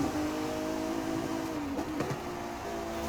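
A Ferrari 296 GTB with its V6 engine drones steadily at high revs in Forza Horizon 5, with the pitch sliding briefly up and down mid-run, loud and continuous throughout.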